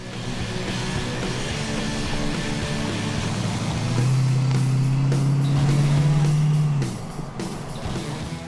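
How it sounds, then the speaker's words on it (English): A 1966 Chevrolet C-10 long-bed pickup cruises at low speed on back roads, its engine giving a steady low rumble with road and wind noise, and a louder droning pull midway before settling back. "since this is the truck's first time out, we wanted to take it easy and skip the interstate."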